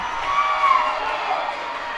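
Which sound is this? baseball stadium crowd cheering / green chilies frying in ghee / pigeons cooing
baseball stadium crowd cheering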